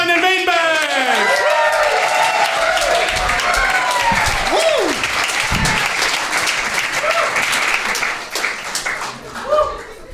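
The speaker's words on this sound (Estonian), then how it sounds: "teeme palun suure aplausi, see on Daniel Weinberg!" Applause from a comedy show audience greeting stand-up comedian Daniel Veinbergs, a loud sustained wash of clapping with an announcer's voice calling out over it at the start, thinning toward the end.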